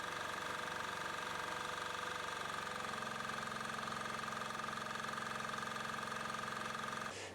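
A generator engine converted to run on vegetable frying oil idles steadily, a constant mechanical drone with a low rumble and a buzzing whine, running close and unchanged until it drops away near the end.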